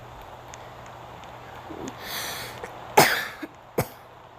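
A person out in the cold of a snowstorm coughs several times, a few sharp separate coughs and a throat-clearing sound spread over a few seconds against faint wind-like background noise.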